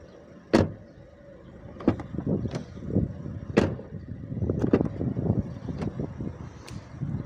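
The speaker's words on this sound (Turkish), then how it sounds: "Kapı sesini dinleteyim. Ön kapı çok ağır aynı şekilde." Heavy front door of a Ford Kuga, with a few sharp thuds and latch clicks close by, spaced a second or two apart, in a quiet car and no one talking.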